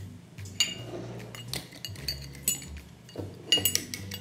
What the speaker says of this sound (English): I have a cup of frozen strawberries here, so I'm adding those to my pan